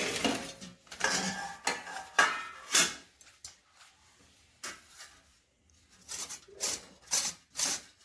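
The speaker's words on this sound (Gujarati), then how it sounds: "આપણે એને છાલ સાથે છીણી લઈશું." Cucumber with its peel still on rubbed against a metal grater in a kitchen, a run of scraping strokes in bursts with short pauses, close and clear with no talk.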